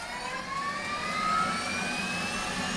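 F/A-18C Hornet auxiliary power unit spooling up in DCS, a steady turbine whine and broadband roar with a rising tone, close and continuous.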